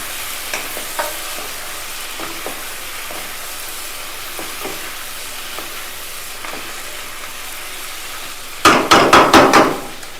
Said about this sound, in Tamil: காலிஃப்ளவர் சேர்த்துட்டு எல்லாத்தையும் ஃபுல்லாக மிக்ஸ் பண்ணிக்குவோம்.